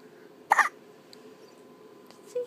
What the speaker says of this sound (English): It's Mama and the baby and we're hiccuping at 3 in the morning